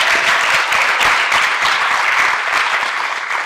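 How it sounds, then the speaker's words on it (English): A pitch-competition audience applauds in a dense, even burst of many hands clapping, filling the room at steady loudness for a few seconds before easing slightly. "Let's give them a round of applause for being a part of the event tonight."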